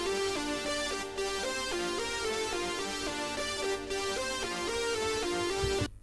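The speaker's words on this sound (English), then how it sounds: "actual lead sound, which is composed from two different parts" Bright keyboard lead synth built from two layered parts plays a repeating melodic line with rich harmonics over a steady backing, loud and continuous, with brief dips and a sharp transient at the end.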